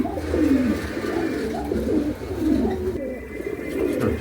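A Jacobin pigeon coos in a series of low, rolling, throaty calls repeated every second or so, close by, with faint background noise and no clear speech.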